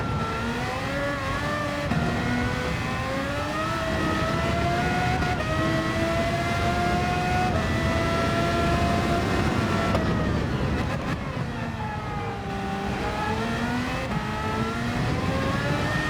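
A racing car in Gran Turismo 7 drives a lap on racing tyres, its engine note climbing and dropping steadily through gear changes as it accelerates and brakes, loud and continuous with no voices.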